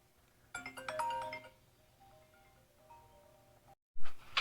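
Phone ringtone sounds for an incoming call in a motorcycle repair garage, a bright melodic tone lasting about a second and a half, then fading into a quieter repeating pattern, followed by a brief gap and a louder burst.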